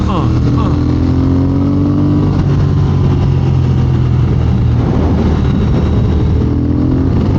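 A motorcycle on Michelin Road 6 tires accelerates hard in third gear over a small rise, lifting its front wheel. The engine drone holds steady and loud, with rising pitch sweeps and heavy wind rush, and a rider talks briefly over it.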